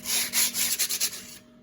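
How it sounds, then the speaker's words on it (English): Burrs being cleaned off the drum of a 12,000 lb Ramsey winch during a rebuild for a Kaiser Jeep M715, a close, loud rhythmic rubbing and sanding in several quick strokes over a steady hum, ending in a quieter tail. "So the idea is to clean the drum up. So there's no burrs, no pokey stuff."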